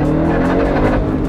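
A new Hellcat truck accelerates hard, its engine giving a loud, sustained roar with strong low rumble and tire noise, close and continuous with no talking.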